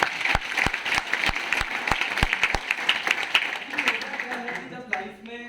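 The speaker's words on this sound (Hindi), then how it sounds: "मैं जोरदार तालियां चाहूंगा" An audience at a motivational talk claps vigorously, with sharp distinct slaps in the first half thinning into lighter scattered clapping and murmuring voices toward the end.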